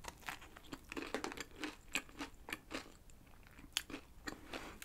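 Close, crisp crunching bites and chewing of chocolate-coated fried bread with red bean filling from a bakery, a run of irregular crackly chews lasting several seconds, quiet and intimate with no talking.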